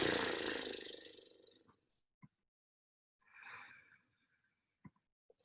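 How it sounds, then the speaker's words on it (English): Lip-flutter breathing during a yoga session, a long breathy buzzing exhale that fades out, followed by a quieter second fluttering breath and a few small clicks, close and soft. "Flutter your lips."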